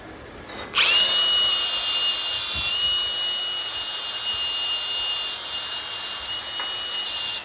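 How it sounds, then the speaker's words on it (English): A power wire brush whirs up to speed and runs steadily on a flux-core weld to clean off slag, giving a loud, close, continuous high-pitched spinning whine that holds for several seconds. "we'll go ahead and hit it with the wire brush"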